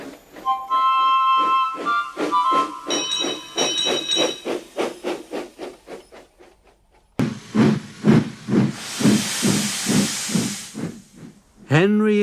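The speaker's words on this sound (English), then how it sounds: "Henry huffs happily out of the station hauling horses." Henry the cartoon steam locomotive chuffs out of a station in steady, rhythmic puffs that speed up, with a long hiss of steam midway and a brief whistle-like rise at the end, accompanied by music.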